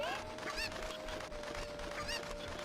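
Chickens clucking in The Legend of Zelda: Ocarina of Time, with repeated honking, squawking calls over a steady tone and busy game background, no talking.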